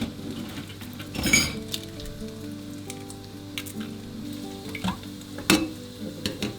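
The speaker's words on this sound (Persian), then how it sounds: "لپه ها در این مرحله افزوده میشن تا کمی تفت داده بشن." Yellow split peas sautéing in a pan with turmeric-coated fresh garlic leaves for a Gilaki Sir Ghalieh stew give a soft, steady sizzle, punctuated by a few sharp utensil clinks against the pan.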